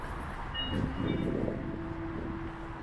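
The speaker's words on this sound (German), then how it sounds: "Caution, the train is arriving." A train rolls slowly in with a low rumble and a faint sustained whine, heard at moderate distance in a reverberant station at Düsseldorf Airport.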